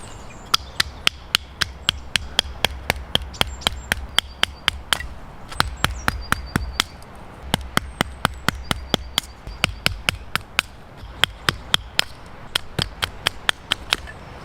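Wooden sticks are chopped for a campfire in the woods with a long series of sharp, evenly spaced strikes, close and crisp, pausing briefly a few times, while faint birdsong chirps in the background.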